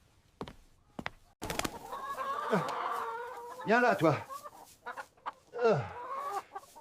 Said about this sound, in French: Papy, le coq, il m'a attaqué